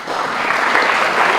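Steady applause from the crowd at a Year 12 high school graduation ceremony, dense and sustained clapping throughout with no pauses.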